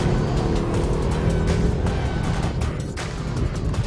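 2019 Mercedes-AMG GT 63 S accelerating hard out of a corner in second gear, a loud, close engine roar with broad rumbling and some road and wind noise, no voices.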